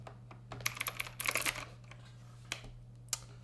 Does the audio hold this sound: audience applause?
no